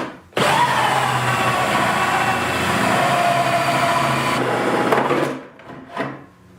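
A power drill fitted with a hole saw bites into a chicken feeder, a loud, sustained grinding whine that runs for about four seconds, then winds down and gives way to a few short bursts and rattles.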